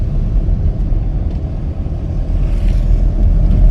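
A car's engine rumbles low and steady from inside the cabin as the car gently accelerates during a driving lesson, a continuous loud hum with no clear peaks.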